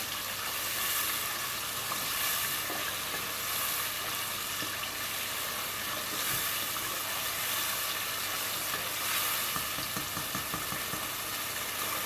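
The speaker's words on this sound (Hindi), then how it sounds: "मसाले को हम 1 से 2 मिनट भूनेंगे इसमें लहसुन अदरक डालने के बाद।" Spice masala with garlic and ginger fries in a pan for a dhaba-style white chickpea curry. A continuous loud sizzle holds steady throughout, with a few faint stirring scrapes and no talk.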